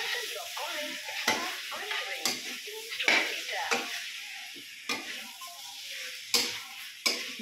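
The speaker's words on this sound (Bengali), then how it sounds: "আলুগুলো দে, একটু নেড়ে চেড়ে" Potatoes being stirred and fried in a pan, a soft continuous sizzle broken by repeated scraping strokes of a utensil against the pan, close up, with quiet talk in the background.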